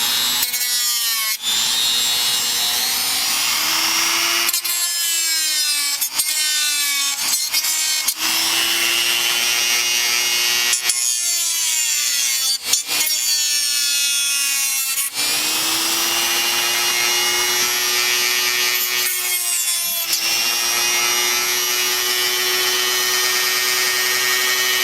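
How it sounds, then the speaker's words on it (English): Hand filing on a plastic Xbox console case being cut for an LCD mod: steady, loud rasping strokes in long runs, broken by short pauses, close up with no talking. "continue filing again"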